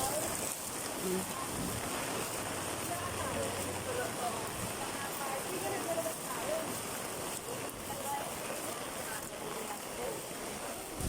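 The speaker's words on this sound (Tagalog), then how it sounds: "Grabe lakas ng ulan." Steady heavy typhoon rain hisses continuously, with gusty wind noise mixed in and no clear voices over it, on a street in Divisoria.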